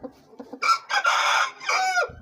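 A rooster crows loudly and close by, with a few soft clucks before a long, strained call.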